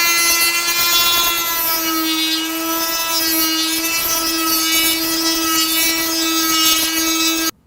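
Loud, steady high-pitched whine of a power tool grinding a bevel into a Hartzell composite Kevlar propeller blade tip during repair, continuous and close, cutting off abruptly at the end.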